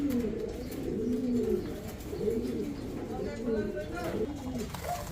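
Pouter pigeons, full white birds, cooing in repeated low rolling phrases close by, several coos in a row over faint background noise.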